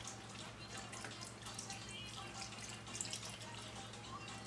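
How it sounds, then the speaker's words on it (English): Chicken broth pours from a carton into a cooking pan in a home kitchen, a faint, steady splashing trickle with soft drips, continuous and quiet over low room hum. "I usually just kind of pour it in."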